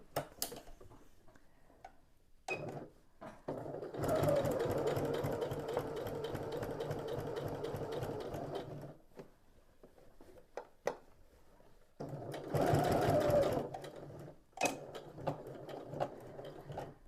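Fabric storage bucket being stitched on a sewing machine, running in two sustained bursts of rapid, steady mechanical whirring, separated by quiet pauses with light handling clicks.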